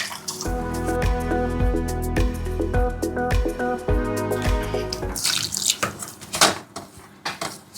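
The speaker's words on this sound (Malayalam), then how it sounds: "തിളച്ചുകൊണ്ടിരിക്കുന്ന വെള്ളമാണ് ഒഴിച്ചിരിക്കുന്നത്" After a stretch of tonal, music-like notes, boiling water is poured into salted puttu flour, giving irregular splashing and gurgling bursts in the final seconds.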